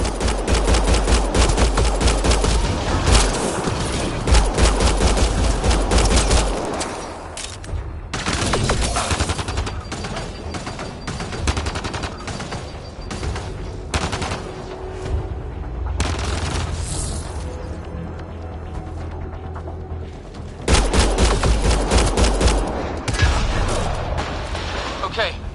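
Sustained gunfire in the shooter Mass Effect: Andromeda, with rapid automatic bursts and heavy booming shots that come in loud waves and brief lulls. Character voices are heard between the volleys.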